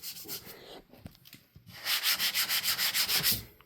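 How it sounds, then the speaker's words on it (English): Hand sanding on a car body panel: scattered scuffs at first, then a steady run of rhythmic rasping strokes back and forth, close and fairly loud, with no talking. "I'm actually sanding it down."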